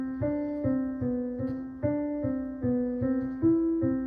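A sequence of piano notes played legato under a slur in a beginner lesson, about nine connected tones with steady rhythm, each sustained into the next without gaps, close and moderately soft with no talking.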